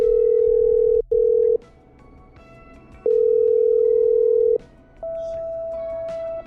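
Phone call being patched through in the video game Killer Frequency: clear electronic tones sound in steady segments, two short beeps followed by a longer tone and then a higher sustained tone, with brief quiet gaps between them and no speech.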